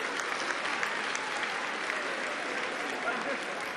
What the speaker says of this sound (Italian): Facciamo ancora un applauso, che momento davvero emozionante.